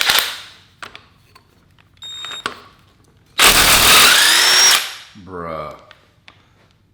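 An impact wrench works on bolts during a Honda Civic engine teardown, giving short close bursts and then one long loud hammering run that spins a bolt free, with brief remarks spoken between bursts.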